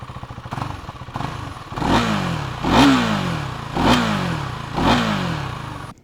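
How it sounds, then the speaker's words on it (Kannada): A KTM Duke 390 motorcycle, a 46-horsepower single with its stock exhaust, idles and then revs in four sharp, evenly spaced bursts, each rising and falling back, heard close with no talk. "ಸ್ಟಾಕ್ ಎಕ್ಸಾಸ್ಟ್ ಆದ್ರೂ ತುಂಬಾ ಸ್ಪೋರ್ಟಿ ಸೌಂಡ್ ಕೊಡುತ್ತೆ"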